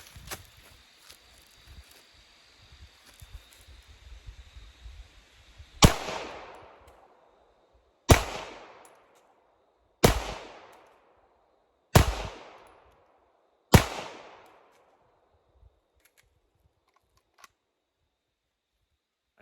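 Five sharp Canik Rival pistol shots fired at about 10 yards ring out at roughly two-second intervals, loud and close, each with a short decaying echo, after some quiet handling noise.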